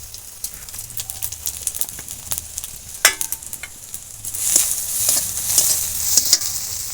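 Panch phoron spices crackle and sizzle in hot oil in a wok, with sharp popping bursts around the middle and a steady frying hiss that grows denser toward the end, with no voices.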